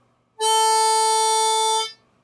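One clean, steady note blown on a harmonica, loud and close, held for about a second and a half before stopping cleanly, with nothing else heard.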